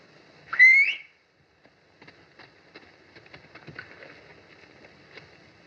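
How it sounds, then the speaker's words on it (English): One short rising whistle rings out clearly to call a horse, followed by faint scattered rustling and soft footfall-like thumps in an otherwise quiet scene. "If you whistle, he'll come to you."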